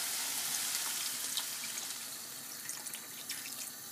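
Water runs steadily from a tap into a cooking pot of chicken with olives and preserved lemon, a continuous splashing rush that holds fairly even for several seconds, close and moderately quiet.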